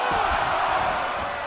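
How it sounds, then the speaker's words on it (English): A wrestling arena crowd in the video game WWE 2K24 roars loudly and continuously, a dense, thunderous wall of cheering. "This crowd is thunderous right now."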